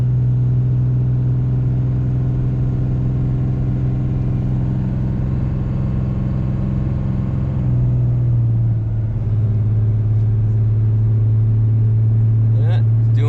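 A RAM 3500 Cummins diesel pickup tows 30,000 lbs up a steep, snowy hill, its engine droning in a loud, steady low rumble with a pitch shift midway as it changes gear.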